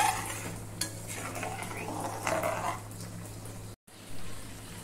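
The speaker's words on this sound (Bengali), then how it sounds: "জল দেওয়ার পরেও আমি এটাকে আবার নেড়ে নেব।" Doi machh fish curry being stirred in a pan right after water is added, giving soft scraping and gentle sloshing with light spoon clinks against the pot, close and steady, with a faint hum beneath and a brief dropout near the end.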